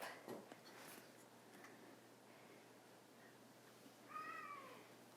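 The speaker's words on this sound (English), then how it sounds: "You can hear my cat in the background." A house cat meows faintly in the background of a kitchen, one soft drawn-out meow near the end over quiet room tone and a few light clicks.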